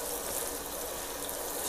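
Water is poured onto seed-sowing media for Cephalotus seeds, a soft, steady hissing trickle heard close up for the whole moment without talk.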